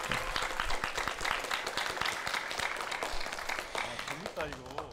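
An audience at a Korean church-themed competition show applauds, dense steady clapping with voices talking over it near the end.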